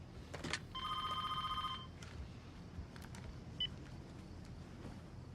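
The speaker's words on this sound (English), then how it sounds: "Inside, Soonthone picks up a cordless phone and sits in the living room" A cordless telephone rings indoors in a living room with one clear electronic trill burst, fairly loud and close, over a quiet room hum with faint movement before and after.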